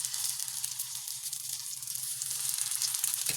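Turon frying in hot oil gives a steady, bright sizzle that holds at an even level throughout, close up and alone with no talk.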